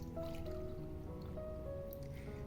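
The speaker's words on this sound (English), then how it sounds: "You will take a container, you will take a sieve, and we will sift it, as we will only use the liquid part." Liquid from boiled potatoes with their skins strained through a sieve into a container, a quiet, close trickle and dripping that runs steadily for a couple of seconds, no voices.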